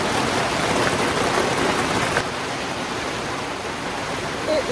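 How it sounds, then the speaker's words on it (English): Heavy rain pouring steadily during a storm over a garden, a dense, even hiss that stays loud and close throughout without a break. "today we are gonna listen to the rain for a minute"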